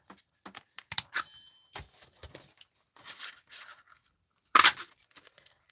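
Packaging around a Stampin' Up curved paper punch is opened close by with irregular crinkling, rustling and small clicks, ending in one louder sharp tear, all with no voices.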